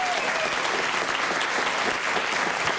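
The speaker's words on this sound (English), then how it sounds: "Applause for you." Dense, even applause from a television studio audience, loud and continuous from start to finish with no pauses.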